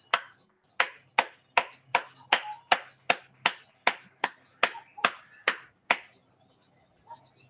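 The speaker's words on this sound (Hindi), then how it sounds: "सभी के लिए एक बार जोरदार तालियां बजाएंगे।" Clapping from a meditation session audience, about fifteen sharp, evenly spaced claps that sound like one or a few people rather than a full crowd, clear and close, then a single faint clap after a pause.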